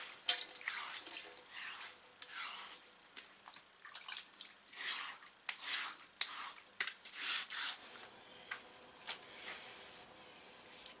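Water runs and splashes while a stone metate is washed clean, with irregular drips, gushes and light scraping or knocking against the stone, heard close and fairly soft throughout.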